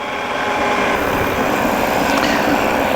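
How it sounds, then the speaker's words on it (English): A running engine turns an original 130 two-blade propeller on a 2.87 reduction drive, a loud, close, constant-RPM drone holding steady throughout. "this engine feels a lot better with the original 130 2-blade on it"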